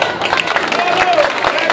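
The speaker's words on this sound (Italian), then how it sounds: "vi prego di fare un applauso a loro." A large crowd claps at the opening of an evening city festival, the Notte Blu, with loud, dense applause and crowd voices mixed in throughout the short stretch.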